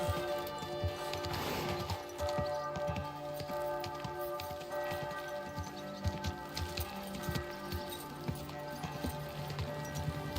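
Horse hooves clopping in the medieval game Kingdom Come Deliverance 2, a steady patter of hoofbeats under a busy town ambience with rain-like background noise, fairly faint and continuous.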